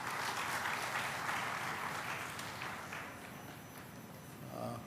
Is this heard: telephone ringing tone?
no